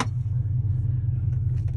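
Steady low engine rumble from a car with Hellcat rims cruising on the road, loud and continuous for under two seconds with no talk over it.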